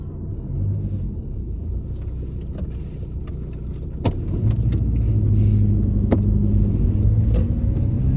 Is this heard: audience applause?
no